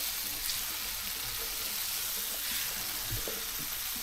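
Liver frying in a pan gives a steady, soft, hissing sizzle with faint pops and clinks, low and even throughout.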